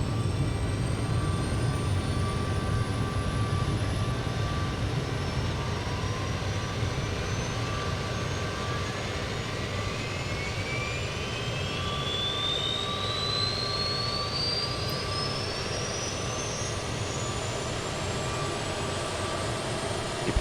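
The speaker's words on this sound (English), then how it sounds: "APU sounds great" Auxiliary power unit of a CRJ 900 airliner running in Microsoft Flight Simulator 2020, a steady loud turbine roar with a rising high whine, continuous throughout with no talking.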